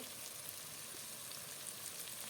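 Onions fry in hot oil with a steady, even sizzle, a continuous crackling hiss with no voices.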